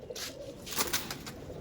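Giribaz pigeons in a home loft give soft, faint cooing and a few quick rustling bursts like feathers or wing flaps, close by and with no voices over them.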